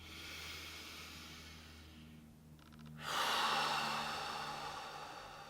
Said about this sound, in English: Deep clearing breath in through the nose.